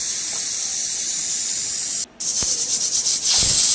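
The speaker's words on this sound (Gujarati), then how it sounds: "કુકરમાં સીટી વાગી ગઈ છે" A pressure cooker boiling potatoes vents a loud, continuous steam hiss. After a brief cut it returns as a harsher, sputtering release that builds louder toward the end.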